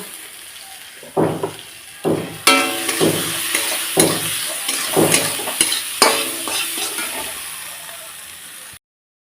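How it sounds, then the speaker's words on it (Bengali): Fish curry ingredients with tomato, salt and turmeric get stirred in a pan, producing a loud, rhythmic series of scraping, sizzling strokes roughly every second, close up and without talk, ending abruptly. "পরিমাণ মতো লবণ একটু দিয়ে ভালোভাবে নাড়াচাড়া করে নেবো"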